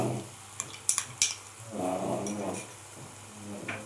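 Ground tomato paste goes into a pan of fried masala for a rahu fish curry, with a few clinks of a spoon against the pan followed by a soft sizzle and stirring, fairly close and moderately quiet.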